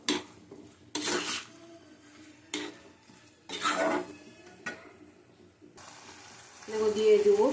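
A soybean and egg fritter curry is stir-fried in a pan. A spatula scrapes and clanks against the metal in several sharp bursts over a faint sizzle, with a voice talking between the strokes.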